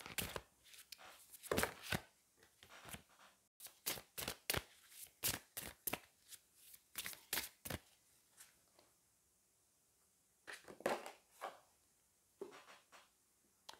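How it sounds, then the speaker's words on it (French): Cards from a Magic of You oracle deck being shuffled and drawn, a run of crisp, close papery flicks and snaps in irregular bursts with short pauses, heard alone without talk. "on va aller prendre une carte du Magic of You maintenant."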